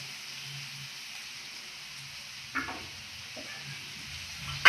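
A little oil sizzles in a pan for green egg fry, a steady soft hiss that runs throughout, with a brief clatter midway and no talk.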